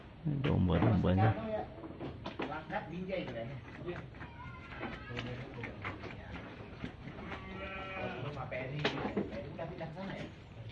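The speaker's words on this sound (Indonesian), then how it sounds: "ini domba-dombanya." Sheep bleating on a livestock farm where they are kept mixed with goats, several close calls heard among people talking nearby.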